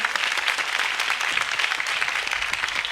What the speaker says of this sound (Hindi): तालियां बड़ी थोड़ी बजाई हैं।